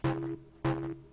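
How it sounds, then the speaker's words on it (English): Two sustained synth tones run through a DubTurbo chorus flange effect, each with a swirling, shimmering sweep, loud and clean. "Now we'll add a little chorus flange."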